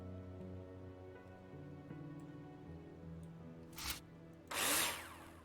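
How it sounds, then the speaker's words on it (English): A power drill in the video game Builder Simulator drives screws into construction profiles in two short whirring bursts, the second longer and louder, over soft, steady background music. "Now place them in the holograms and screw them in with a drill."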